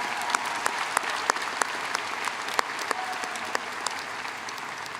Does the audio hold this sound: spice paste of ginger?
no